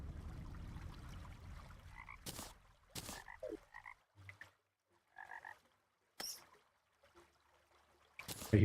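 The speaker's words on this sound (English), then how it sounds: "I hear frogs" Frogs croak in Terraria in short separate bursts, a few close and distinct calls spaced by quiet gaps, with a brief louder rush at the start and sharp clicks scattered between.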